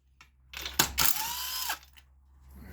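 Impact wrench spinning spark plugs out of a 2000 Acura Integra engine with a blown head gasket: a sharp burst, then a sustained loud whirring buzz about a second long that winds down, close by, with no talk.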